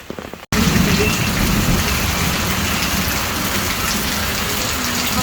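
Heavy night rain pours down in the Bicol countryside, a dense, loud, continuous roar of drops hammering surfaces. It starts suddenly after a brief quieter moment and holds steady throughout.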